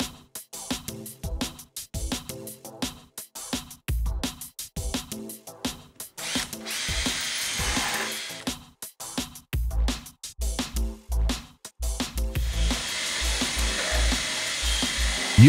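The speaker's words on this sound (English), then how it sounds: "Use a long drill bit to mark the wall where the universal will be installed." A power drill whirs in short bursts against a wall during a Rollac A200 rail installation, with intermittent thumps and a longer grinding run near the end.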